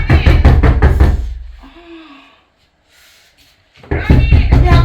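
Loud, repeated knocking on a door, a rapid run of heavy raps at the start and another burst near the end, with a quiet stretch between.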